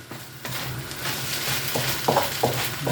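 Food dusted with Cajun seasoning sizzles steadily in a pan while being stirred, with a few sharper scrapes and clinks of the utensil toward the end.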